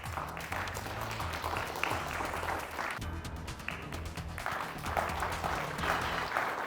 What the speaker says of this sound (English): The applause went on for the entire break for Lindsay for winning that Bergstrom bonus question